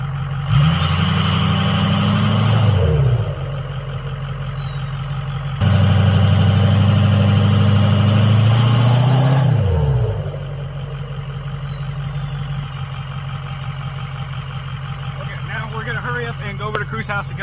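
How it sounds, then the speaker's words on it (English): A heavy Ford 6.0 diesel truck engine with an upgraded turbo revs up twice in long sustained bursts, each rising in pitch and falling back to a rumbling idle, loud and close. "I'm gonna do a video of me revving it up"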